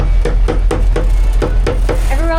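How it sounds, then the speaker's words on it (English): Hammering aboard a sailboat during an Atlantic crossing, working fibers loose: about eight sharp, evenly spaced strikes, close and solid, followed by a brief rising tonal creak at the end. "This is really the only place on the boat that I feel comfortable hammering."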